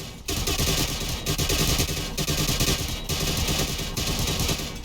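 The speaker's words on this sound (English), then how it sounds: "they continue firing into Zin, even though it does absolutely no good whatsoever" Video game gunfire rattles continuously in dense, rapid machine-gun bursts, loud and unbroken across the whole stretch with brief dips between volleys.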